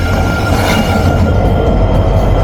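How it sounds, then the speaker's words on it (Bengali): Lalmoni Express, train 752 down, pulls into a station behind Hyundai Rotem 3000-class locomotive 3029 with a metre-gauge air-brake rake, a loud, steady, close rumble of engine and rolling wheels without a break. "অবশেষে প্রবেশ করলো আইকনিক লালমনিরহাট রেলওয়ে স্টেশন থেকে iconic Lalmoni express train number 752 down"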